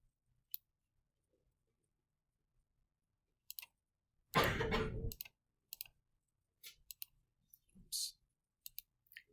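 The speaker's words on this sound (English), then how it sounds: "when I type this into the calculator" Calculator keys tapped in a classroom, scattered quiet clicks in short irregular runs, with a brief burst of louder noise midway and otherwise near silence.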